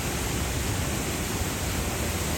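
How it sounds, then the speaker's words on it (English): Nugget Falls near Juneau, Alaska, gushes as a waterfall in a steady, broad rush of white water, continuous and fairly loud without a break. "This waterfall douses eager visitors below"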